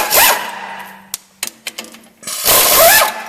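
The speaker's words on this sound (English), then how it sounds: "Next, with our impact wrench and a 15mm socket, we're going to remove the rear sway bar." Impact wrench with a 15mm socket working the rear sway bar bolts on a Jeep Wrangler Rubicon: two loud whirring bursts bracket a few sharp metallic clicks and taps, close up.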